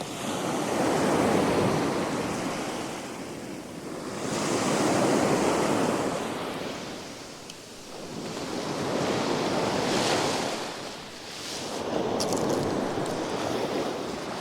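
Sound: sea waves on the beach in Mersin

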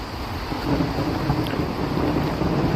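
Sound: thunder rumbling

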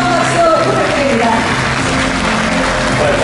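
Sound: audience applause at Rotary district conference

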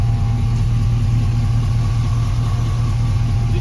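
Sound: Toyota Land Cruiser 6.0 LS engine through straight-pipe Magnaflow exhaust

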